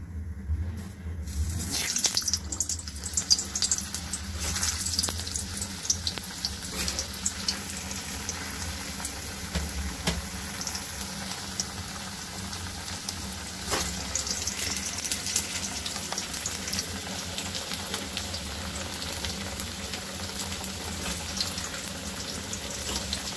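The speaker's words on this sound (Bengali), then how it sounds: "তেলটা গরম হয়ে গেলে এবার একে একে আলুগুলো ছেড়ে দেব।" Potatoes fry in hot oil with a steady, crackling sizzle that runs on without pause, close by and fairly quiet.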